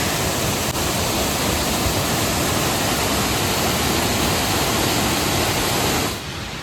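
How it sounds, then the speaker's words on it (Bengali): The Barahil waterfall on the India-Bangladesh border roars with a loud, steady broadband rush of falling water that fills the whole clip, then drops a little in level right at the end. "জলের কি আওয়াজ দেখতে পাচ্ছ"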